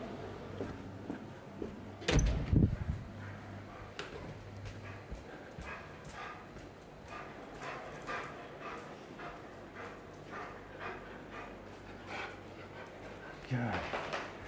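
Dogs bark and scuffle close by inside a home, with a loud burst early on and scattered yips and thumps after it, while someone talks over the noise.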